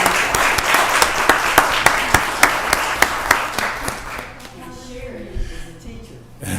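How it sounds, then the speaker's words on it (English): Audience applause for retired educators at a county board of commissioners meeting, a room of clapping with distinct sharp claps, thinning out after about four seconds into murmuring voices and shuffling. "let's give the retired educators a round of applause"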